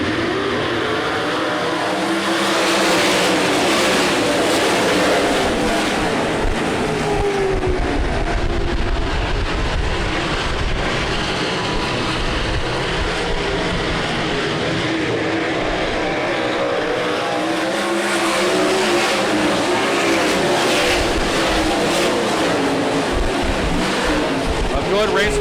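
Sprint cars racing at night on the Rapid Speedway dirt track: a continuous, loud, droning engine roar that swells and fades as cars pass, with a commentator talking over it throughout.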